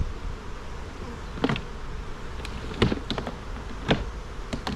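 A busy hive of honey bees hums continuously up close, broken by a few sharp taps and knocks of handling.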